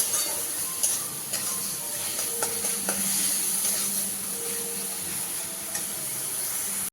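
Ground spices fry in oil for a Bengali rui fish kalia, with a soft steady sizzle and several spatula scrapes and stirs against the pan, close and fairly quiet.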